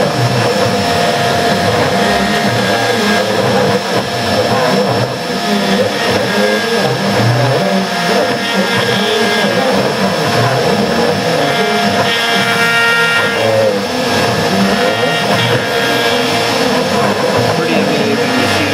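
A home-built CNC machine cuts parts for a tree, giving a steady, loud, continuous whine and grinding motor drone that runs without a break throughout.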